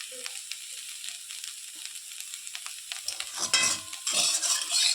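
Potatoes sizzle and fry in a pan at home, a soft crackling hiss with light stirring scrapes, growing louder and busier toward the end.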